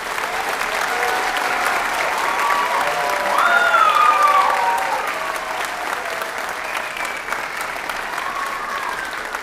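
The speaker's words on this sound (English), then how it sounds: "So if we could give our third graders one more round of applause." An audience claps steadily for third graders at a school holiday concert at Mount Wolf Elementary, a full, continuous round of applause that swells briefly in the middle, with a few faint cheers and a whistle over it.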